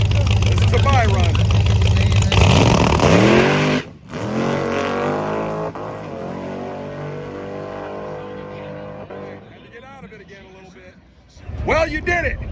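A drag race car makes a quick bye run at Roadkill Nights, its loud engine roaring up close then fading into a distant drone, followed by people talking.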